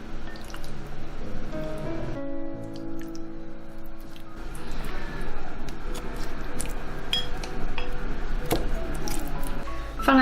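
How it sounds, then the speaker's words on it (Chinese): Marinated chicken wings are set into an oiled rice cooker pot lined with sliced ginger, with soft wet squishes, drips and light clinks against the pot, close and steady, background hum throughout. "把腌好的鸡翅摆进来"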